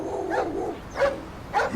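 A police dog gives three short, close barks spaced evenly apart, each a bright loud yelp standing out clearly.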